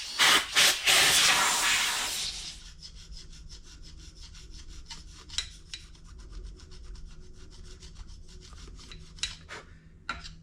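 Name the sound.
carbide gasket scraper scraping gasket off engine part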